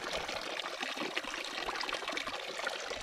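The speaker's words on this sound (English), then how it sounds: "this is Labarge Spring, and see, it's flowing really well." Spring water at Labarge Spring in Arizona's Superstition Wilderness flows steadily, a close, continuous trickling and splashing with no voices.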